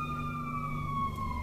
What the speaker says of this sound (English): say hi to the sirens outside